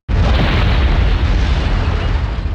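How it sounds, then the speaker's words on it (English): A bomb explodes inside a safe in the 2000 Spider-Man video game: a sudden loud boom followed by a sustained, rumbling roar that stays dense and heavy to the end. "Spider-Man preventing destruction by hiding a bomb in what seems to be the most secure safe in the world"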